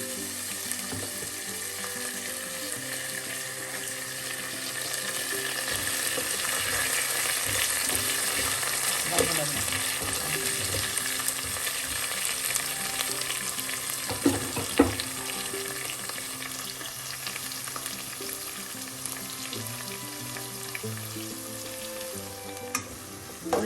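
Onion, green chilli and curry leaves fry in hot oil with cumin for a potato and lady's finger stir fry, giving a steady, close sizzle with occasional stirring scrapes throughout and no talking.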